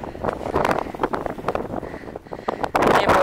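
Gusty wind buffets the microphone outdoors during haymaking, with irregular rushing bursts that rise and fall, loud and close, alone without voices.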